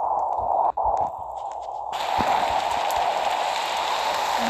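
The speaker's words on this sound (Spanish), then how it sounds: "Lluvia así." Rain in a natural disaster video game starts partway through as a steady, full hiss of falling water that rises and then holds, with no talking over it.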